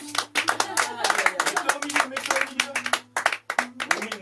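Scattered hand claps from an audience at a slam poetry evening in a café in Vence, uneven and close, mixed with people talking throughout.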